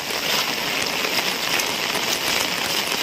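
Heavy monsoon rain pours down in a Konkan village near a tile-roofed house, a dense steady hiss of drops pattering on surfaces with no break, close and constant.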